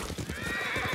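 A horse gallops with rhythmic hoofbeats and gives a whinny during a ride in the video game Ghost of Tsushima, close and brief.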